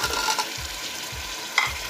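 Beef keema with tomatoes and potatoes being stir-fried dhaba style, with a spoon scraping the pan in a steady rhythm over a constant sizzle and one sharper clink near the end.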